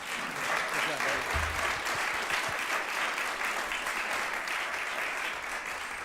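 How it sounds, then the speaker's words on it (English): Steady applause from an audience at a church presentation, a continuous crowd of hands clapping at moderate, fairly distant level, with faint background murmur underneath. "so let's give one more big round of applause for Jalen and Scott"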